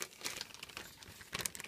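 A plastic bag of pads handled up close, crinkling in two short bursts, brief and soft, with no talking.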